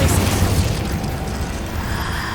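Spell blasts from Incendio, Confringo and Glacius cast in Hogwarts Legacy combat: a dense, loud run of booming bursts and crackling magical impacts rolling together without a break.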